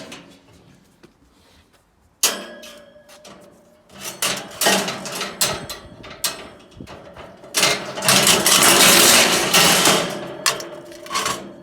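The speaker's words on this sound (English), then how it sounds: "got the grinder out, no messing, off with the legs" Angle grinder cutting the legs off a piece of iron scrap metal, starting abruptly with harsh bursts and clanks, then a long loud continuous grinding screech near the end, close up, no talking.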